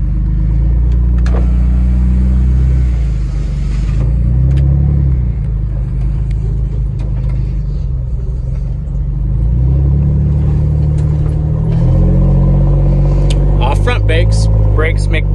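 A 2007 Jeep Wrangler two-door engine runs up through the gears, a loud low rumble that rises and falls with each shift, close by, with talking partly over it.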